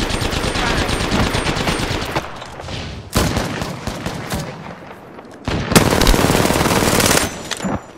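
Loud automatic gunfire from Apex Legends rattles in long sustained bursts broken by brief pauses, close and heavy throughout with no voices.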